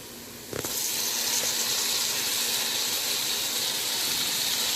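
Chopped Roma tomatoes drop into a hot pan over a gas flame for shimla mirch and potato curry, setting off a sudden loud, steady sizzle and hiss that keeps going without a break.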